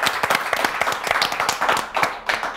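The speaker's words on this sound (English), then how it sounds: "Let's give him a round of applause." A studio audience on a children's spelling quiz show gives a burst of applause, with dense, fast claps from a small group, fairly close and lively, and no voices over it.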